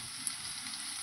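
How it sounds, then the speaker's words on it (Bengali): Potatoes frying in oil in a pan for a pomfret curry with potato and eggplant, a steady, even sizzle throughout, close and moderately loud with no talking. "আলুটা কিন্তু আমার লাল লাল করে ভাজা হয়ে গেছে"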